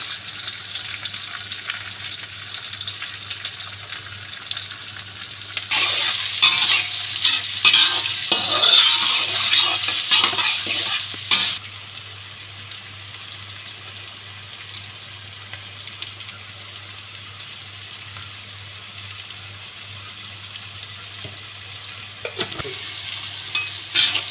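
Onion and garlic sizzle and fry in a pan for traditional Rajshahi alu ghati curry, a loud hissing burst with stirring in the middle that drops to a quieter simmer afterward.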